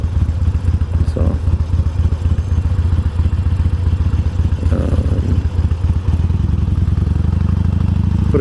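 A Harley-Davidson motorcycle engine fitted with Cobra slip-on mufflers idles close and loud, a steady deep rumbling throb with a clattering pulse that holds constant throughout.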